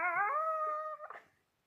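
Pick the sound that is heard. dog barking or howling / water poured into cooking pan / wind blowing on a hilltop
dog barking or howling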